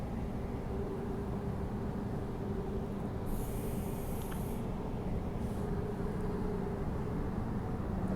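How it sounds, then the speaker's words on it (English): Train engine heads rolling past without wagons, a steady low rumble with a faint high squeal partway through, heard from nearby trackside. "Freight train. Not really a freight train, it's just some engine train heads."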